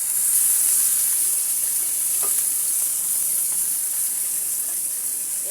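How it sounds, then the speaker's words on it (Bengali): Pieces of tilapia fish frying in hot oil make a steady, close, bright sizzle with a constant hiss and faint crackles throughout, loud and unbroken, with no talk. "আমি মাছগুলোকে সুন্দর করে মেখে নিয়ে এক পিস করে সুন্দর করে তেলের মধ্যে দিয়ে দিলাম।"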